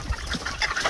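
Chickens kept on a two-acre chilli farm cluck in short overlapping bursts, fairly close among farmyard background noise.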